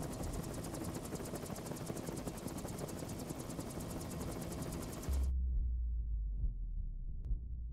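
A helicopter in the video game Investigator gives a steady, loud, throbbing rotor drone for about five seconds, then cuts off abruptly and leaves a low hum.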